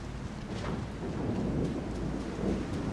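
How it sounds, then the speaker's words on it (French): A storm in the video game Star Citizen fills the scene with dense, loud rushing rain and low rumbling thunder swelling steadily throughout, with no talk. "C'est désagréable ce bruit de tempête dans mes oreilles."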